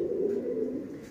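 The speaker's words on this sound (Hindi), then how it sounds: "ये जो कबूतर हाशिम भाई ने पकड़ाया है, मुझे ये एक बेहतरीन उड़ा हुआ कबूतर है" A pigeon held in the hand gives a low, soft cooing that is close and steady. The brief call fades slightly at the end.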